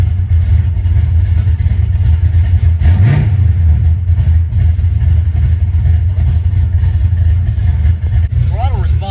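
A cold 1965 Ford Mustang engine idling with a low, loud rumble, then a sharp rev that rises and falls back, with people talking over it.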